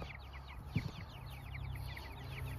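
Soft, rapid chirping and low clucking from a group of hens and chicks, with a brief thump partway through and steady background noise.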